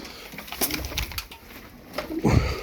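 Tumbler pigeons coo softly nearby in low throaty bursts, with rustling and faint background noise around them.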